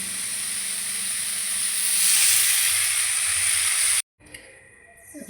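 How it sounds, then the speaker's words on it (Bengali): Hilsa fish frying in hot oil give off a loud, continuous sizzling hiss that swells and then cuts off sharply, followed by faint clinks and a softer, intermittent sizzle. "এবার এটা হয়ে গেলে মাছগুলো ভাজবো"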